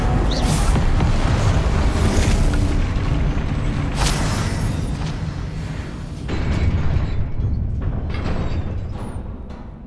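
A Confringo spell explosion in Hogwarts Legacy lands with a deep, sustained boom, followed by rumbling, crackling debris and several sharper impacts through a loud, dense stretch of combat.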